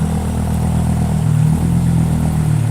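A heavy diesel backhoe engine rumbles steadily up close, revving slightly with a low clattering throb throughout.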